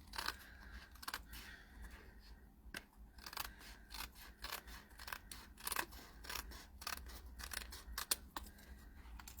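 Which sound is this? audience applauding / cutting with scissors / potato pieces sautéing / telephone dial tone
cutting with scissors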